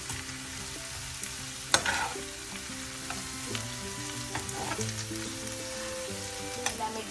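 Green bitter gourd (pavakka) and vegetables are stir-fried and tossed in a hot pan. A steady sizzle runs throughout, broken by scraping spoon strokes and a few sharper clatters.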